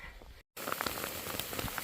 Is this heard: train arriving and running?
no